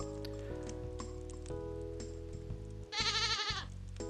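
A goat in the Stardew Valley farming game gives one short, wavering bleat near the end, heard over a steady looping game soundtrack.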